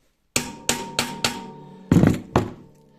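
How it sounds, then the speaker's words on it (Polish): Six sharp metallic taps from a small hammer on a tractor's flywheel and clutch, four evenly spaced then two more after a short pause, each ringing briefly in a quiet space. "pozwolę tu wszystko jeszcze opukać, przepukać młoteczkiem w każdą stronę"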